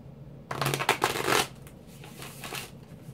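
Tarot cards being shuffled by hand, a steady run of papery riffles and slides over about a second, then softer shuffling that trails off, close and alone in a quiet room.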